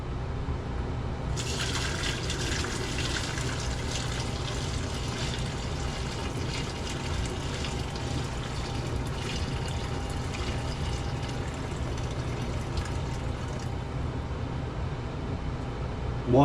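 Ash lye water poured through a sifter into a stainless steel pot at a forge camp fire, a steady continuous splashing stream running without a break throughout, close and fairly loud.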